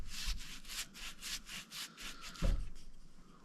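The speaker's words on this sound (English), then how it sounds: "I don't like the gloss stuff I'm sanding off of here." Hand sanding of glossy finish on a wrecked boat hull: rhythmic, close scratchy strokes, roughly a dozen in quick succession with a soft knock partway through, moderately quiet and without talk.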